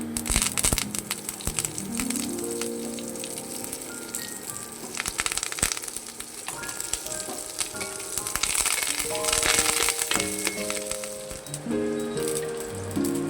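Mustard seeds and curry leaves crackle and sizzle in hot tempering oil for dhokla, a busy popping spatter that runs continuously beneath tuneful background music.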